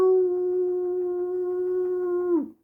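Six-year-old German Shepherd letting out a single sustained howl, steady and clear with a sharp drop at the end, close by with no talk.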